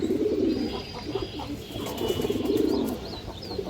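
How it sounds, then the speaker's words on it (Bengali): Home-bred baby and adult silver pigeons coo in low, throaty rolling phrases close by, with faint chirps and a little wing shuffling in the background; no speech. "দর্শক এইখানে কিছু বাচ্চা কবুতর আছে মাশাআল্লাহ, এগুলো আমার ঘরের বাচ্চা, হোম ব্রিড দর্শক"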